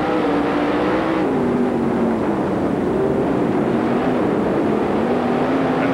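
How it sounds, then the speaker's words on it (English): Dirt track race car engine at a 1998 UDTRA dirt racing event in Tazewell, loud and close, droning steadily while the pitch rises and falls as the throttle is picked up and backed off. "You can hear where he picks up the throttle and where he backs out of it."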